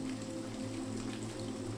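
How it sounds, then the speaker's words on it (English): Rain falls in a courtyard at night, splatting into puddles as a soft, continuous patter under a low steady hum. "the courtyard echoes the soft sounds of rain falling and splatting into puddles"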